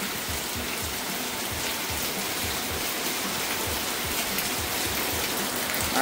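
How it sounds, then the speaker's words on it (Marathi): Heavy rain falls on a village as a steady, faint, even hiss and patter that continues without pause, with no one talking. "खूप भयंकर पाऊस आहे खूप भयंकर."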